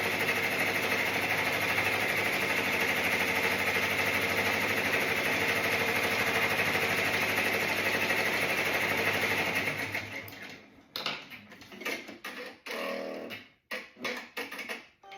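An embroidery sewing machine stitches a satin-stitch border on a glitter bag tag, a loud rapid steady whir for about ten seconds, then stopping and restarting in short uneven bursts.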